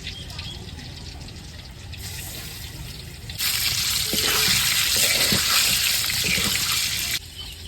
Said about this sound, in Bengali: ডিমটা হালকা তালা দিয়ে নিছি, আমি দিয়ে নিই। এই তেলের মধ্যেই ভুনা করব।